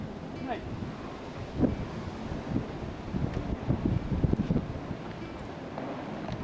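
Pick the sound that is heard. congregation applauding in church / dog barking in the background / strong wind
strong wind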